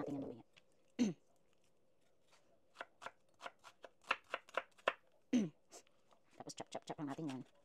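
A knife chops onion on a board in a quiet kitchen, sharp isolated cuts giving way to a quick run of rapid chops at the end, and a voice speaks briefly between them.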